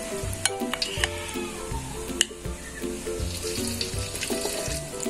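Dried shrimp fritters (bakwan udang rebon) fry in hot oil, a steady close sizzle broken by repeated scraping and stirring knocks of a utensil in the pan.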